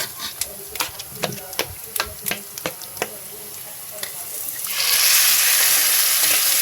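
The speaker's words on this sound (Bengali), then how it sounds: "এটা মেখে আমি ওটার ভিতরে তেলের ভিতরে দিয়ে দেবো।" Food rubbed with salt and turmeric goes into hot oil in a home kitchen, giving a run of sharp crackles and spits that swell into a loud, steady sizzle.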